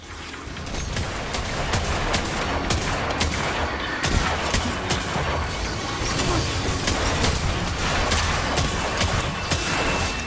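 Rapid gunfire in the Destiny video game, including shotgun blasts, dense repeated bangs firing almost continuously with a busy battle-noise bed, loud and unbroken for the whole stretch.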